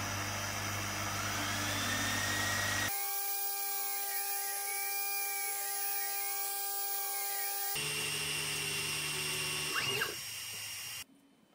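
AlgoLaser Alpha 22W 20-watt diode laser cutting thin stainless steel sheet 0.17 mm thick: steady high whining tones with shifting sweeps from the machine's motion, loud and continuous with no talk, cutting out near the end.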